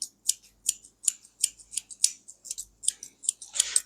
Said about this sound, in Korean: 가위질은 기본 가위질로 들어가셔야 돼요.